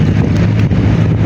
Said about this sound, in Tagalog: Pero buti na lang mahangin.